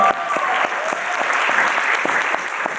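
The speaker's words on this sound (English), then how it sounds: "We actually get another like big cheer for Alf here" Convention audience at Confuror 2019 applauding and cheering for Alf, a steady patter of clapping hands filling the room, fairly loud and continuous.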